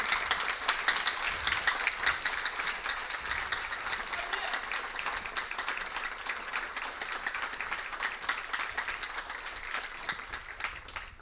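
An audience claps warmly for two high schools, Lycée Jean-Marie Vincent and Lycée Jacques Ier of Croix-des-Bouquets, at a school competition event. The dense applause holds steady for about eleven seconds, then tapers slightly, heard at a distance.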